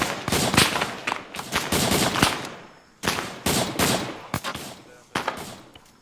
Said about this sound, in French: Attention, ça tire à droite.